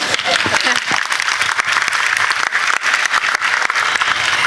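An audience at a live event breaks into dense, continuous applause, with many hands clapping close and loud throughout while voices mix in underneath.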